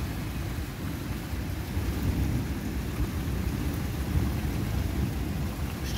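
UK thunderstorm in July, with steady heavy rain and continuous low rumbling thunder rolling through the whole stretch, no talk.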